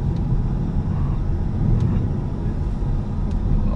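A 2019 Ford Mustang GT Premium engine under throttle: a continuous low, steady rumble heard from inside the car, fairly loud with no distinct revving peaks.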